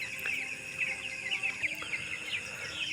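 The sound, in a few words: chickens clucking on a poultry farm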